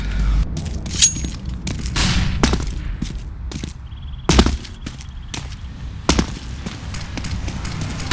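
Counter-Strike gunfight with a flashbang grenade going off amid repeated sharp gunshots and thuds, loud and close, with a brief high ringing tone partway through.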